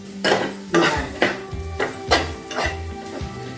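Tamarind roasts in a little oil in a pan over low heat. A metal spoon scrapes and clanks against the pan in repeated strokes over a faint sizzle.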